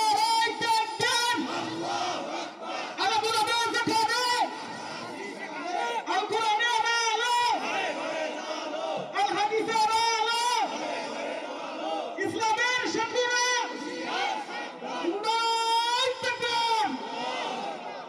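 A large crowd at a religious gathering chants slogans in loud, rhythmic bursts, many voices shouting together in repeated call-and-response waves.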